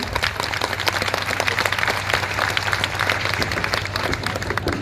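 Audience applause at a Hindu gathering, a steady wash of many hands clapping at moderate loudness for several seconds, with a faint low hum running underneath.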